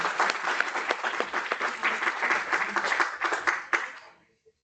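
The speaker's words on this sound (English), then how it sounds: "I think we can give him a big round of applause for sharing." An auditorium audience at a business conference meeting breaks into lively applause, with crisp, dense claps that thin out and stop abruptly near the end.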